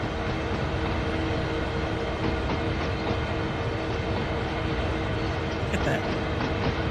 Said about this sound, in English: There's another intermodal train.